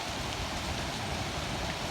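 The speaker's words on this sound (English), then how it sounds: "this rainstorm that turned into hail, this is pretty cool" Steady rain falls hard during a wilderness rainstorm that turns to hail, making a dense, even, close hiss with no let-up.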